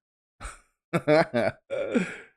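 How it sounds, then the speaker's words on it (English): A long, drawn-out yawn with breathy, voiced stretches that rise and fade, close and fairly loud, alone against silence. "That's the biggest yawn of a lifetime."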